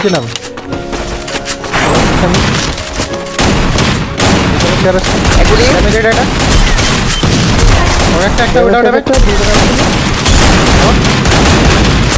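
Sniper rifle fire and battle noise from a mobile shooter game, with sharp repeated shots and booms over a busy, continuous mix, and voices talking throughout.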